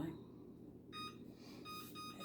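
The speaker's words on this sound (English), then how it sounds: "Turn my timer on." An oven timer gives a short series of electronic beeps as it is set, faint and close, after a low murmur of room noise.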